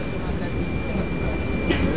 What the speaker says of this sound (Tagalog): Ayan na po ang LRT.